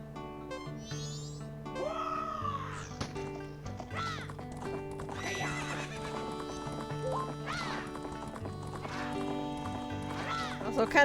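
Galloping hoofbeats and a horse's whinny during a horse race in The Legend of Zelda: Majora's Mask randomizer, heard over steady calming background music with occasional voice-like bursts.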